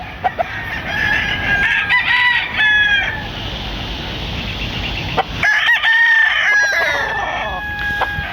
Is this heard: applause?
no